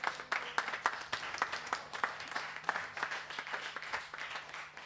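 Live-concert audience applause and clapping for a band, a rhythmic steady clap from a moderately distant crowd, faint and even, sustained throughout.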